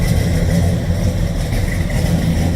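A 1969 Chevrolet Chevelle Malibu SS tribute muscle car idles with a slight lope, a steady, loud, deep rumble heard close up, with no talking.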